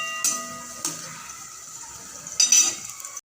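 Chopped onions and tomatoes with a spoon of salt hit a pan for a soya chunk dish, giving a soft sizzle under clinking utensil and pan knocks, with a couple of louder scrapes.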